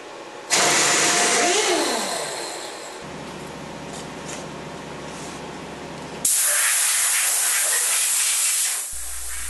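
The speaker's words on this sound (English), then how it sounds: "Blow loose chips off the machine with compressed air." Compressed air blasting loose chips off a milling machine: a loud broadband hiss starting abruptly, easing to a steadier rushing blow for a few seconds, then a second loud burst before cutting off.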